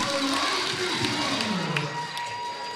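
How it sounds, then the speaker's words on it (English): A basketball crowd cheers and shouts at a women's college quarter-final game, a roaring indoor swell with scattered whistles and voices that gradually settles down. "the crowd erupts"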